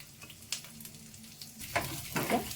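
Byadgi chillies fry and sizzle in a pan alongside garlic for guava chutney, a steady soft crackle with louder bursts of hissing as they are stirred near the end.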